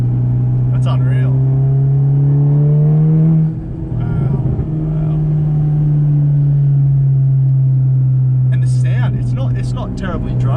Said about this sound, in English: No, it's a really good exhaust.